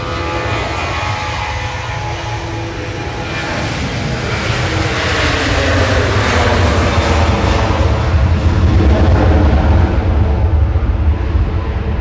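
A Ryanair airliner at Manchester Airport roars steadily and loudly, its engine noise building slightly over about twelve seconds as it passes, with no talk over it.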